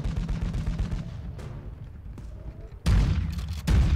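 Gunfire from the video game Call of Duty Modern Warfare 2: a rapid rattle of shots gives way to scattered reports and then heavy loud bursts near the end, dense and close with no voices over it.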